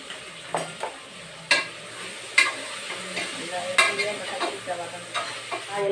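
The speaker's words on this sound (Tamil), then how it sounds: "எல்லாம் போட்டு புதினா போட்டாச்சு நல்லா அந்த தக்காளி எண்ணெயிலே நல்லா வதங்கிட்டோம்" Tomatoes and mint sauté in hot oil in a pan, a steady close sizzle broken by repeated scraping stirs of a spoon against the pan.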